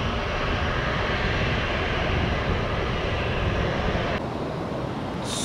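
A Spirit Airlines airplane landing at Tampa airport before dawn, its engines a loud, broad, steady roar that holds throughout with a slight drop in hiss near the end.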